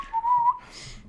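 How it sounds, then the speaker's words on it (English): A short, innocent-sounding whistle from a defense minister in a video game: one rising then level tone lasting about half a second, clear and close, followed by a faint airy trail. "roars your defense minister before she starts whistling incoherently"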